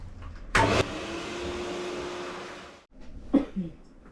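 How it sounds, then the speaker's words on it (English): A pet blow dryer with no nozzle attachment runs steadily on a big, hairy golden retriever during a de-shedding groom, starting with a loud burst and then holding a constant whooshing roar with a faint hum before cutting out. "So now we're going to use the dryer again, but without that attachment."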